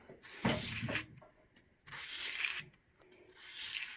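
A number 10 clipper blade pressed flat and slid across a hollow-ground sandy sharpening surface, three gritty rasping strokes in rhythm with short pauses, close and fairly quiet.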